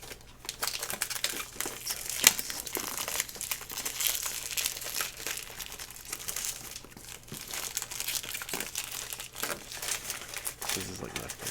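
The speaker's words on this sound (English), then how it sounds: "I really wanted to get the lovely, lovely sound of the paper opening." Close, continuous crinkling and tearing of paper wrapping as it is pulled open from a Google Home Mini box, with rustles and small snaps throughout and no one speaking.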